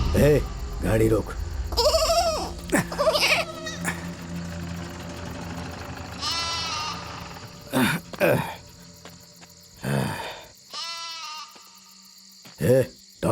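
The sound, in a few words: goat bleating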